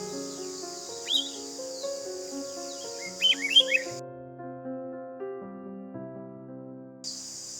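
Tiny bulbul chicks chirping in a nest, a few thin high calls at first and then a quick cluster of peeps, heard over a steady musical background.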